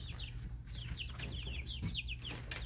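Six-week-old Blue Star chicks cheep and cluck softly in a farm coop, with repeated short chirps over a steady low background hum.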